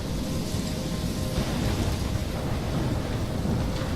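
Steady, loud rain and wind in a Life is Strange thunderstorm, a continuous broadband roar with a deep low rumble throughout and no distinct thunder crack.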